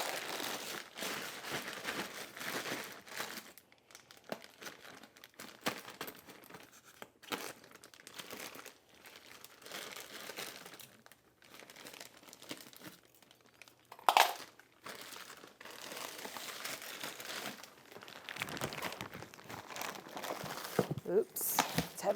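A plastic bag of compost is cut open and handled, giving repeated close crinkling and tearing rustles with occasional sharper crackles, continuing throughout.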